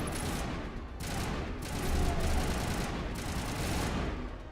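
Sustained gunfire and a fusillade of shots in the Mass Effect video game, continuous and fairly loud, dense bursts rolling through the whole stretch with no clear pauses.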